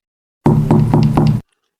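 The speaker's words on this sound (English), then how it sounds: "I had a knock. Not on the door, but on the kitchen window." Knocking on a kitchen window at night: four firm, evenly spaced raps, close and loud, in a brief burst and then silence.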